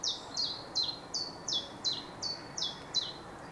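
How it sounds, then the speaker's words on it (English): A chiffchaff sings a rhythmic series of about nine sharp, evenly spaced two-note chirps, clear and fairly close over a soft background rumble. "Chiff chaff."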